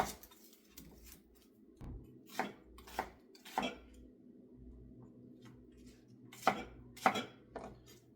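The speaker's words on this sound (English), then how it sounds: "So now I'm going to cut up 1 onion." Onion chopped with a knife on a board, giving about a dozen irregular, crisp knocks spread over several seconds, fairly quiet, with no speech.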